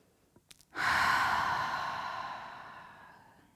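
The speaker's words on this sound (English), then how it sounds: "Open your mouth and exhale." A long, audible exhale through an open mouth during a yoga breathing exercise, preceded by a couple of soft breath sounds, then one loud whooshing breath that slowly fades over about three seconds.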